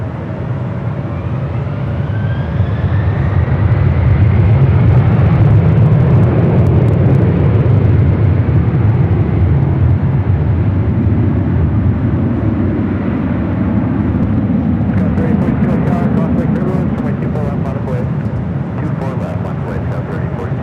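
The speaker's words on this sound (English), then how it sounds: "Delta Airlines 951 taking off to JFK on the 767 300ER" A Delta Air Lines Boeing 767-300ER takes off at LAX, its jet engines a heavy, sustained roar that swells and slowly rolls away, filling the whole stretch.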